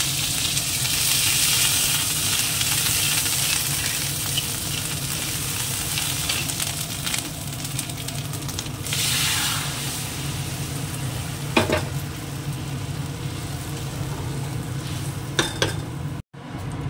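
Dried red chillies, cumin and grated ginger fry in oil, making a continuous close sizzle that stays loud throughout, with a few utensil clinks and scrapes and no talking.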